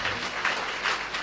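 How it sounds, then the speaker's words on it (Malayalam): A congregation claps together in praise during a church gathering at Avila Sadan, a steady, dense patter of many hands that holds for a moment at moderate loudness. "നമുക്ക് കൈയടിച്ച് കർത്താവിനെ മഹത്വപ്പെടുത്താം."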